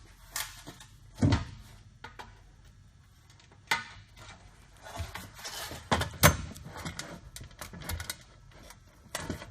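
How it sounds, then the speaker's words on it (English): Metal drop-in pieces sliding into a tool tray during assembly, giving a few sharp knocks and clatters with scattered light taps in between, close by and fairly quiet. "these drop-ins are going to slide right"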